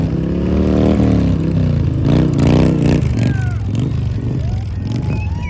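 Motorcycle revving hard through a burnout at a race event, the engine climbing and falling in repeated loud surges with screeching tyre tones over a busy, noisy background.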